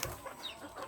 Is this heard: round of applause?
no